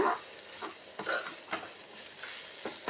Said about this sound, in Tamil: இதெல்லாம் போட்டு முதல்ல நல்லா வதக்கிடுங்க நல்லா வதக்குங்க கொஞ்சம் சிம்மிலே வச்சு வதக்குங்க